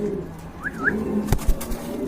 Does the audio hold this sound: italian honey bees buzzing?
no